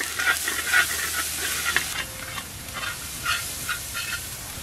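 Garlic and ginger frying in a pan: a steady sizzle with light stirring scrapes, close and moderate in level, with no talk.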